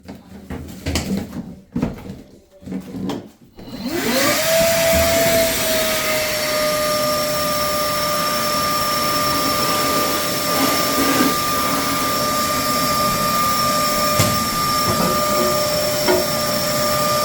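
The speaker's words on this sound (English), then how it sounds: "Vacuum." A few knocks and clunks, then a vacuum cleaner starts up with a rising whine and runs loudly and steadily to the end.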